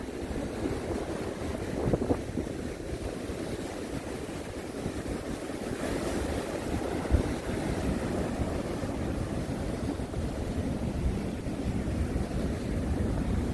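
Rough sea waves surge and break against coastal rocks near Yeonggeumjeong pavilion, a continuous wash of rumbling surf mixed with wind buffeting the microphone, with no voices.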